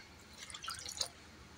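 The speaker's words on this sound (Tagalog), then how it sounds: "Maglagay na rin tayo ng 2 tasang tubig." Two cups of water poured into a steamer pot while making steamed cheese puto, heard as a short, faint burst of dripping and splashing liquid lasting about a second, with no talking.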